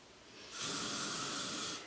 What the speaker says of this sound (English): And I spray those curls